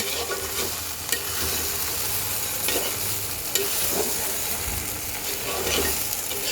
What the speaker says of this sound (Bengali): গরম মশলা বাটাটা দিয়ে দিলাম এবার সুন্দর করে মিক্স করে দেব